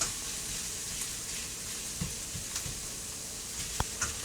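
Garlic sizzling in a pan as a base for a simple bean soup, a soft steady fry hiss with a few brief stirring clicks and scrapes, fairly faint and with no talking.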